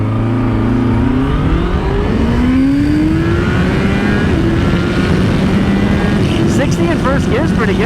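Honda CBR650R motorcycle accelerating wide open in first gear, a loud, close engine note climbing steadily in pitch with a brief stutter, a rider's voice speaking over it.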